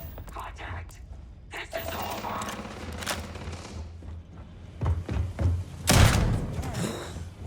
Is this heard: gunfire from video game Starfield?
yes